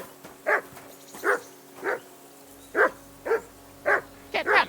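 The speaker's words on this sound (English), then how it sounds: "Get that mutt of yours to stop barking, will you?" Dog barking in Kingdom Come: Deliverance II, a medium-close series of about eight sharp barks at a steady, unhurried pace, with the last two coming in quick succession over low ambient hum.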